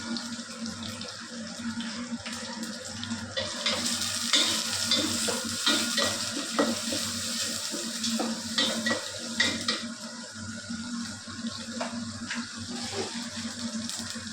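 Onions frying in a pan for semiya upma, a steady sizzle with occasional stirring scrapes and light clatter, close and fairly quiet.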